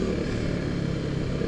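A KTM RC 390 sport motorcycle riding through city traffic, its engine a steady, continuous drone close to the microphone with no distinct revs or pauses.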